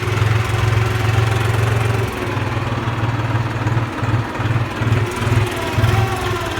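A New Holland TT3.50 tractor engine runs with a loud, steady low chug while ploughing, its rhythm briefly pulsing and stuttering before settling back into an even idle.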